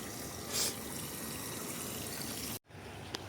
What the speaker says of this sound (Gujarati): અત્યારે ચાલુ છે મોટર બાકી પાણી જાય છે ઘણું એવું